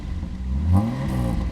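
A 1971 Mercedes-Benz W108 280S engine revs up briefly and settles back to a raspy idle, the exhaust note rising in pitch then dropping, close by.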